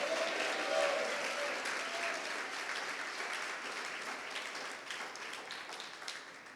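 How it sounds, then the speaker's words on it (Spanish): Church congregation applauding together during a worship service, a steady wash of clapping from many hands that fills the room and slowly fades, with a voice faintly over it. "el pueblo te da un fuerte aplauso a ti, Señor"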